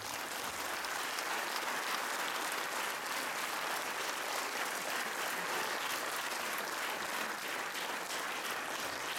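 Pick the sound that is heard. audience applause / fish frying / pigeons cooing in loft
audience applause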